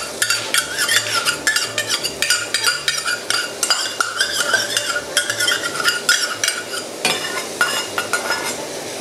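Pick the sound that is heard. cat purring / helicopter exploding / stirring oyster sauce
stirring oyster sauce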